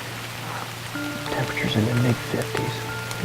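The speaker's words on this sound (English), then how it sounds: "It's raining pretty hard, actually." Hard rain falls on an evening outdoors in steady, dense patter beneath someone talking and some faint tonal background sounds.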